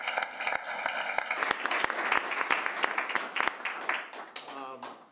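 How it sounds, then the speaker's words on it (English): Applause at a city council meeting fills the room with sustained clapping from a crowd. It builds, holds and then tapers off near the end, with speech mixed in. "Can I get a round of applause?"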